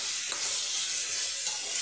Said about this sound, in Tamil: இந்த ஸ்டேஜில் சோயா கொஞ்சம் போட்டுக்கோங்க